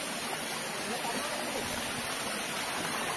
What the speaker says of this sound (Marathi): छोटे छोटे धबधबे कसे वाटतात बघा.